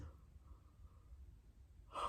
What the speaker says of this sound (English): I think that's yawn number 8